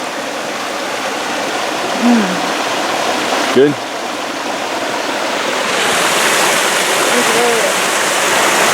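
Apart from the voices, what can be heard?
creek flowing near campsite, San Bernardino Mountains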